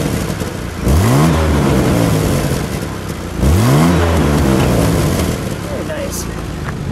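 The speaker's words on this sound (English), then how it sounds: "All right, give it a rev." A 1970 Jaguar E-Type coupe engine is revved twice, each blip rising sharply and falling back to a steady idle, recorded up close.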